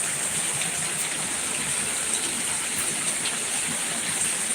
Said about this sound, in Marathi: पाऊस बघा किती आहे जोरात